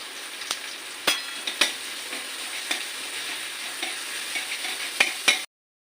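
Garlic and a few green chillies frying in oil with no other spices, a steady close sizzle broken by several sharp pops and spatters, no talking.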